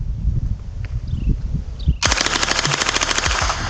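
A full magazine emptied in one sustained burst of automatic gunfire, very loud and close, a dense rapid stream of shots that starts abruptly after some quieter handling sounds.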